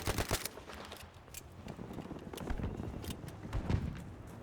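Sustained automatic gunfire in a Battlefield V firefight, repeated bursts and sharp cracks rolling on at moderate distance with dense overlapping shots.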